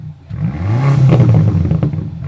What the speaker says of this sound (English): the Akrapovic exhaust is finally fitted